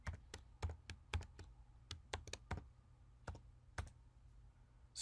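Quiet, close keyboard typing: scattered sharp key clicks in irregular bursts with short pauses between.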